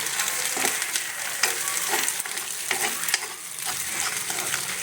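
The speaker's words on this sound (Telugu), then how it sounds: "సో ఇలా మనం 3 గుడ్లు 1 by 1 కొట్టేసుకుని ఫుల్గా తిప్పేసుకోవాలి." Three beaten eggs sizzle and spit in a hot pan for a milk-based egg curry while a spatula stirs and scrapes steadily, close and fairly loud with no talking.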